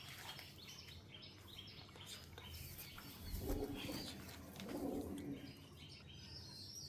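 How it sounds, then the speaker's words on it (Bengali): A domestic pigeon kept for sale gives two soft, low coos over faint background chirping and ambient noise. The coos are fairly quiet, and no one speaks. "এই একটা পায়রা দেখো"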